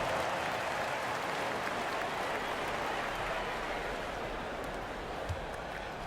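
Sustained applause from a large crowd in the NBA 2K25 basketball video game, a dense steady wash of clapping that fades slightly toward the end.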